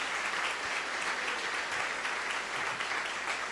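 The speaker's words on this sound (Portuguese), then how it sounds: "Vamos dar para eles, olhe para eles em volta e dê para eles um aplauso de gratidão." A church congregation applauds during a Lord's Supper service, a steady wash of many hands clapping at even volume throughout, heard alone without voices.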